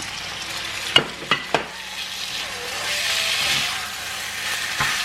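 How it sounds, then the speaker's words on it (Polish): Marinated pork tenderloin sizzles in a hot pan for Sichuan-style pork, with a few sharp clinks and stirring knocks early on and a steady frying hiss building afterward, heard close with no talking. "I teraz będę obsmażać przez 30 sekund. I dodaję zamarynowaną polędwiczkę wieprzową."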